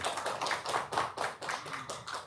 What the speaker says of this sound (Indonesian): Tepuk tangan dulu dong buat Mbak Rati.